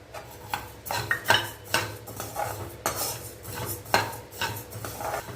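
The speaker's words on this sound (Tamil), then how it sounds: "தனியா நல்லா சூடு ஏற வரைக்கும் வறுத்துக்கோங்க" Coriander seeds, black pepper, cumin and fenugreek dry-roast in a pan, with a spoon scraping and clinking against the metal in irregular knocks over a faint low hum, close by and without voices.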